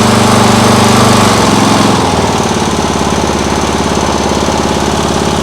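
A lawn mower engine drives a homemade outboard at full throttle, producing a loud, harsh, rapidly pulsing buzz that holds steady close by, with a slight dip in pitch partway through.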